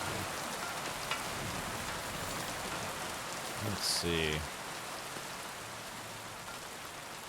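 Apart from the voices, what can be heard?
rain falling, in video game Kingdom Come Deliverance 2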